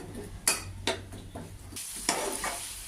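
Spices and potatoes frying in a pan while being stirred, a steady low sizzle broken by several sharp scraping strokes of the spoon against the pan.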